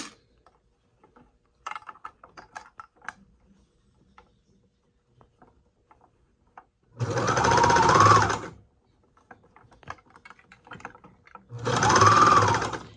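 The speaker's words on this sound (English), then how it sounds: "And now we sew." Sewing machine stitching fabric for a sock, heard as two separate whirring bursts of about one and a half seconds each. Soft handling noises and fabric rustle fill the quiet gaps between them.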